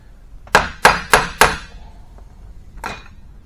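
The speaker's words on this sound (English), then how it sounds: "tap on that head gland a little bit." Four sharp metallic hammer strikes on the head gland of a hydraulic cylinder during a rebuild, evenly spaced and close, ringing briefly, followed after a pause by one fainter knock.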